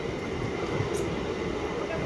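A passenger train rolls in with a steady, broad rumble and rail noise that holds constant and close, with a faint voice murmuring underneath.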